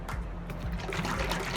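Fork oil, 10W Motorex, sloshing as it is shaken inside a closed container, a steady liquid churning and gurgling throughout with no speech.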